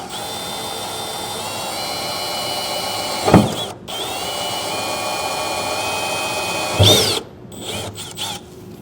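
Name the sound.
drilling a pilot hole with a small drill bit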